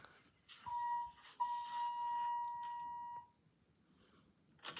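A series of sharp, steady electronic beeps from an elevator cab's alarm button, close and fairly loud, a short tone followed by two long sustained ones, then quiet cab ambience.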